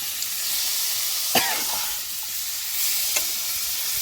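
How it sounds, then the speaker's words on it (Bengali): Shredded cabbage is stirred and fried in a pan, making a continuous close sizzle broken by a couple of sharp spatula scrapes. "এবার বাঁধাকপিটা দিয়ে দেবো"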